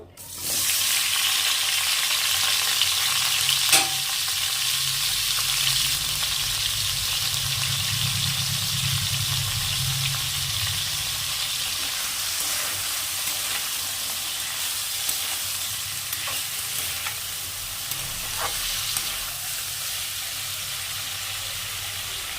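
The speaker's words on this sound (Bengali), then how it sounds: "কেটে ধুয়ে সেদ্ধ করে রাখা এঁচড়টাও ভেজে নেবো" Steady, loud sizzling of boiled jackfruit frying in hot oil, a continuous crackling hiss with a few faint clinks from stirring.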